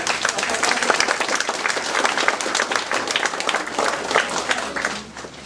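Warm audience applause at a senior center's 20th anniversary celebration honoring Penny Church, dense steady clapping for about five seconds that thins and fades at the end.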